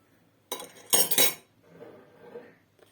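A metal spoon clinks and rattles against a measuring cup while making a cool lime drink, a few close, bright clatters followed by softer scraping handling sounds.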